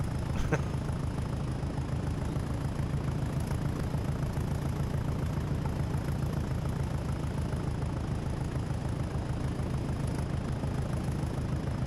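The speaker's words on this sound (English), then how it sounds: "The Class 20 sound, the engine sound" A Class 20 diesel locomotive idles in Train Sim World, giving a steady, low, throbbing engine rumble that holds unchanged and fairly quiet throughout, with no voices.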